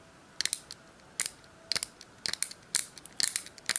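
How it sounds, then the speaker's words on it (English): Quiet, sharp clicks from a plastic fidget cube come in small irregular bursts, some single and some in quick doubles or triples, close up with no talking. "It sounds like plastic hitting each other."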